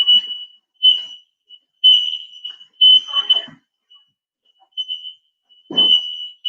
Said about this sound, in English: My alarm doesn't like bacon.